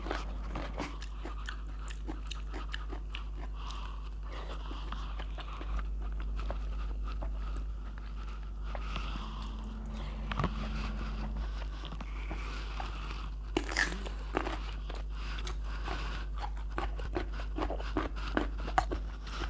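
Crunchy bites and steady chewing of raw white asparagus eaten close to the mic, repeated wet crunches over a low background hum, with no talking.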